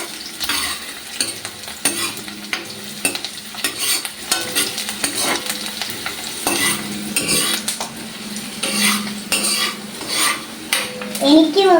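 Tomatoes stirred in a cooking pan, continuous scraping and clinking of a spoon against the pan with a soft sizzle underneath, close and steady throughout with no talk.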